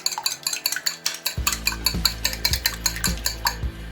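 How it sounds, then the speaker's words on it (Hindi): Eggs whisked briskly in a bowl, with rapid, regular clinking and tapping strokes close by, steady and rhythmic, no voices. "सबसे पहले ये मैं अंडे को मिक्स करता हूँ"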